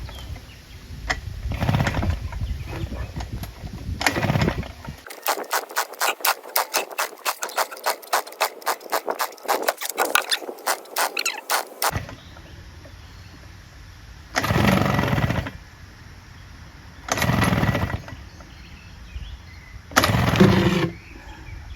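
A Craftsman push lawnmower with a 6.5 HP Briggs Quantum engine, low on compression from a badly scored piston and rings, is pull-started. Several short bursts from the pull cord are followed by a longer stretch of rapid sputtering cranking that fails to catch.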